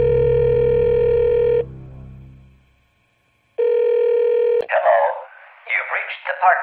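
A landline telephone plays a steady dial tone that cuts off and then returns before a sharp click, then a person talks over the line as messages are checked.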